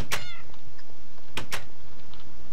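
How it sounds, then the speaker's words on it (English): Minecraft cats meow in a game world, two or three short bright meows, one at the start and a pair near the middle, close and clear over quiet background. "There's now cats."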